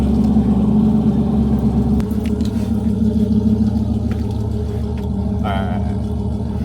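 A Ram TRX pickup rumbles low and heavy while driving, the deep engine note steady and close before easing slightly after a shift, with faint clicks and a brief higher whine near the end.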